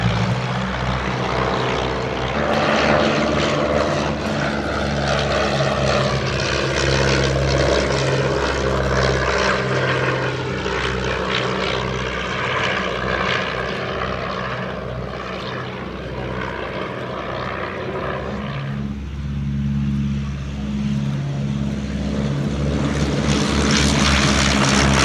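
A de Havilland DHC-1 Chipmunk piston propeller engine drones loud and steady in flight from inside the cockpit, with slight shifts in pitch and no talk.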